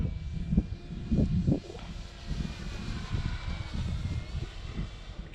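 Cirrus SR22T single-engine plane in flight, a steady droning engine hum heard from inside the cabin, moderately loud and continuous with some low rumbling buffets and no talking.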